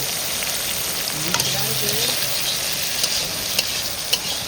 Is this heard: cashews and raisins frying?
yes